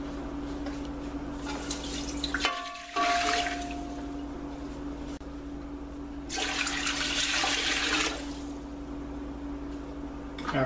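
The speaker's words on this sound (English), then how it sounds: "Let me add the water." Water pours and splashes into a pot in two bursts, a steady rushing stream that stops, then starts again a few seconds later.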